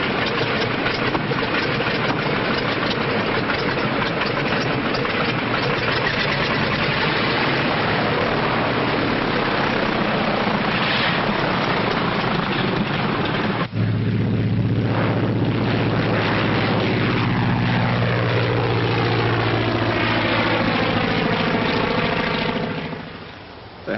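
A late-1930s aircraft in flight gives a loud, continuous engine drone. Partway through, the drone shifts into a deeper, swelling roar that holds to the end, with no speech.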